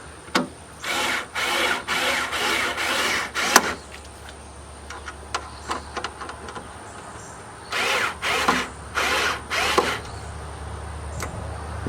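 A power drill on its lowest setting drives plastic screws in short bursts, with several whirring runs clustered early and again near the end, and light handling clicks and rubbing in between.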